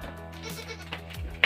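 Boer goats bleat inside a goat house on a hot morning, a wavering call with a short, higher cry at the close, fairly quiet with no talk.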